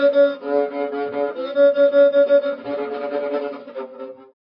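A 3D printed violin bowed close up with rough, wavering strokes that shift between a few sustained pitches in short pulses, played without talk and ending abruptly.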